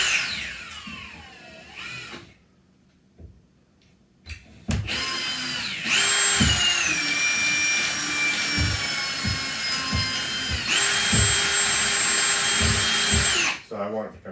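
A power drill bores a hole in a pantry cabinet, starting after a brief quiet gap and then running in long, loud sustained whines that shift pitch with load, broken by a few clicks and knocks.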